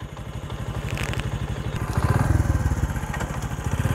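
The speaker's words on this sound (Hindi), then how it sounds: "अभी देखो मैंने ये बाइक चलाया, हम जा रहे हैं, ये क्लच पकड़ के मैंने सेकंड गियर लगाया" A motorcycle engine running close by as the bike pulls away, a steady throbbing putter that grows louder and deeper as it shifts into second gear.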